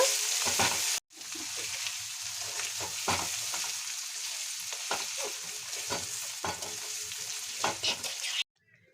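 Spoon stirring a tempering of ground cumin and chili paste into khichdi in a pan, a steady close scraping and sizzling that runs throughout, cutting out briefly near the start and at the end.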